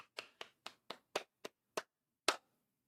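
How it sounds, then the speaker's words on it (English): A single person claps for Alicia during an online webinar: eight separate claps, close and fairly quiet, with the last one coming after a slightly longer gap and nothing else around them. "That's Irish for a round of applause for Alicia"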